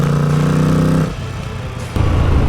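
A car engine running on Coryton Sustain sustainable fuel revs with a strong harmonic drone, drops off sharply partway through, then picks back up, loud and close with no talk.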